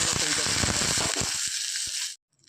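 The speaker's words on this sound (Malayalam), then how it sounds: "അതിലേക്ക് നമുക്കൊരു പതിനഞ്ചോളം വറ്റൽമുളക് ചേർത്ത് കൊടുക്കാം ഡ്രൈ റോസ്റ്റ് ആയിട്ടാണ് എടുക്കുന്നത്" About fifteen dried red chillies dry roast in a pan for a Kerala-style fish roast, giving a loud, close, continuous crackling hiss that cuts off abruptly, with a voice talking over it.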